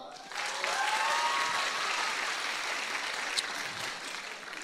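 An audience at an Indonesian talk-show event claps to vote for a contestant, a dense, sustained burst of applause that swells quickly and holds steady for several seconds before easing slightly.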